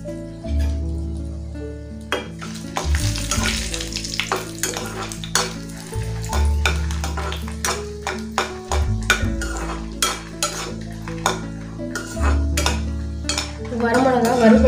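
About six dried red chillies frying in hot oil in a pan for peanut tomato chutney, a steady close sizzle under repeated clinks and scrapes of a spoon stirring against the metal pan.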